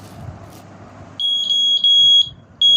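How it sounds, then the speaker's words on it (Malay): An electronic buzzer sounds in loud, steady high-pitched bursts, briefly cutting out and resuming, following a quieter stretch of low background rumble. "Ni dia punya buzzer dia."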